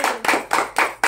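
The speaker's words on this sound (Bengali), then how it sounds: "তাহলে কৃতিকার জন্য জোরে হাততালি।" People clapping at home for the girl who won a bottle-catching game, five quick, close, evenly spaced claps in a short burst.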